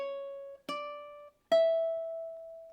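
A ukulele plays a short measure from a song, three clear plucked notes, each ringing and fading, with the last one sustaining longest, close and clean with nothing else heard.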